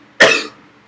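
A single sharp, loud cough from a sick person, close to the microphone, short and raspy with a quick fade and no speech around it.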